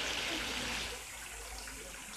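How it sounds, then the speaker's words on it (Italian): Water splashing in a public fountain in Nice, a dense continuous rushing spray heard close and fairly loud throughout, easing slightly midway, with no talk. "Assurda sta fontana."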